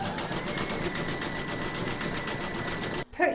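Embroidery sewing machine running a satin stitch round on an in-the-hoop heart banner, a steady fast mechanical whir with regular needle pulses, loud and close, stopping abruptly near the end with a brief clunk.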